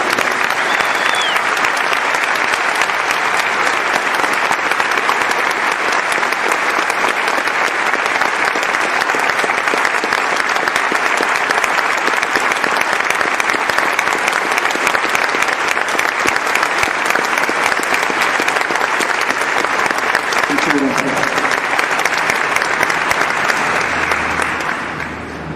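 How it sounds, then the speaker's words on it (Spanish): Sustained applause from an audience at a dignification ceremony at the National Palace, held in memory of victims; dense, steady clapping continues for about 25 seconds before tapering off at the end. "un fuerte aplauso a su memoria y un fuerte aplauso a su lucha"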